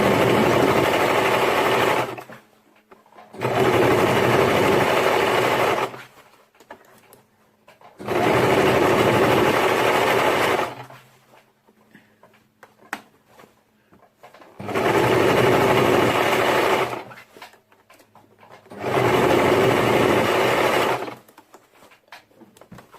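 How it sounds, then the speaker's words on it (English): A sewing machine stitches elastic onto a ruffle crop top in five loud, steady bursts of rapid whirring, each lasting a few seconds and separated by quiet pauses. "Make sure you're sewing on the line."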